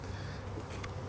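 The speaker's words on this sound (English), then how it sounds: "these bees that are flying around on the outside are called travelers" Honeybees buzz around the outside of a bee package, a steady low insect drone filling the brief moment with a faint higher rustle near the end, no voices present.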